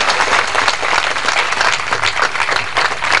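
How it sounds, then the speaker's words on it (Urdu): Loud, dense applause from a conference audience in Multan for a speaker, a continuous roar of many clapping hands sustained throughout without any talk. "ان کے لیے بہت ساری تالیاں لی گئی"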